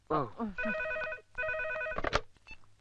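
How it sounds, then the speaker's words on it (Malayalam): A telephone bell rings in two clear, rapid trilling bursts, close and loud, with voices speaking just before and after the rings. "ഫോൺ എടുക്ക്."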